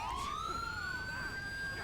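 An ambulance siren in Grand Theft Auto V, played with the LSPDFR mod during a house-fire scene, gives a single rising wail that climbs steadily in pitch, loud and close, with no talk over it.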